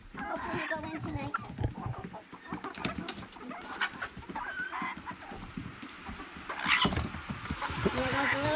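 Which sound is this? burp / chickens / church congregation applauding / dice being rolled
chickens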